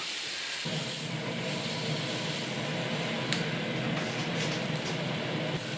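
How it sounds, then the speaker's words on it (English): Steaks sizzle loudly in a hot pan, a dense continuous crackling hiss that starts abruptly and holds steady, close up. "plop your steaks in. They will sizzle like crazy"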